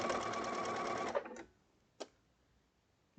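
A sewing machine stitches a quilt seam in a fast, steady whir for about a second, then stops, followed by a few isolated clicks and taps in near silence.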